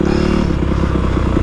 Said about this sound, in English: But as soon as I start to rev up the RPMs